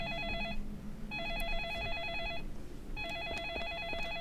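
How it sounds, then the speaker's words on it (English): A telephone in Deadly Premonition Origins rings in a warbling electronic trill, three bursts spaced about a second apart, fairly clear over a low rumbling background with no voices. "The phone is ringing again."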